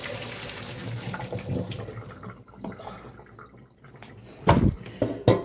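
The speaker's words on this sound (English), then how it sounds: "Come here and strain these noodles out" Cooking water pouring from a pot of boiled noodles through a strainer into a kitchen sink, a running splash that fades, followed by a few sharp clanks of the strainer and pot near the end.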